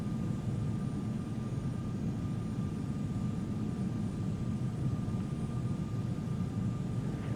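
Boeing 757-200 jet engines in a flight simulator during takeoff, a steady, loud low roar with a faint thin whine above it, unbroken for the whole stretch and with no voices over it.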